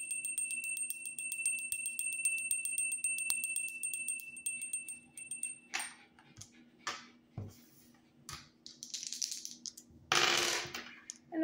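Dice roll during a tarot reading, a light tinkling patter first giving way to several sharp, scattered clatters and knocks, close and fairly quiet.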